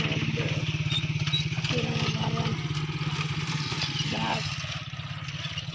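A motorcycle engine runs at a steady idle, a low, even pulsing throb heard throughout, with people talking over it.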